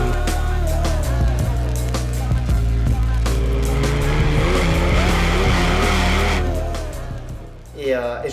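An Alpine A110 sports car engine drones steadily on a track with rising and falling pitch as it accelerates and shifts, tyres squealing briefly, then the engine fades near the end.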